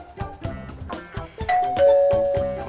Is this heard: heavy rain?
no